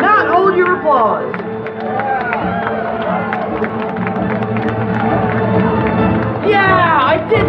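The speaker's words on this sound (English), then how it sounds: "Do not hold your applause" Live audience at a Spider-Man stunt show at Avengers Campus, California Adventure, cheering and applauding loudly and steadily through the whole stretch, with whoops and crowd babble mixed in.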